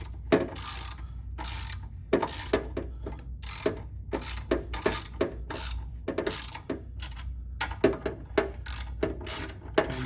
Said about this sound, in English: So a 13mm wrench on this socket.